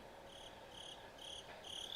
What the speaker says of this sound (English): we put the crickets because a lot of times I ask a question